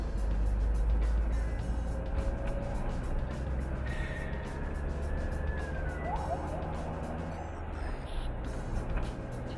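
Busy city avenue traffic in Manila approaching Ayala Avenue, a dense, continuous low rumble of many vehicles with passing engines, a faint siren-like tone and a few horn-like calls mixed in.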